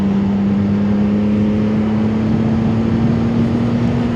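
A CFMOTO 675SS sport motorcycle engine on a late-night ride, holding a steady, loud droning hum with a faint rise in pitch throughout, set against continuous wind and road rush.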